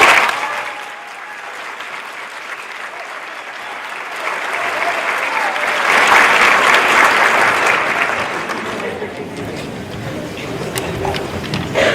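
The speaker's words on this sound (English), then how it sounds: "Let's have one more round of applause." Audience applause at a school district celebration for USD 262 honoring award winners, starting modest and swelling into fuller clapping midway, steady and moderately loud throughout.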